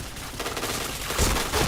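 Dense, loud gunfire from a shooter video game, overlapping rapid shots with heavier impacts toward the end, no pauses across the short burst.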